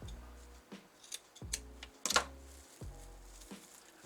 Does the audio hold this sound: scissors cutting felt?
yes